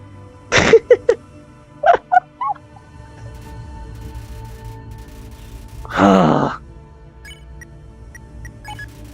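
Birds in the video game Undertale give short, gobbling squawks: a quick cluster of chirps, a second pair shortly after, then one louder, longer call over a quiet background.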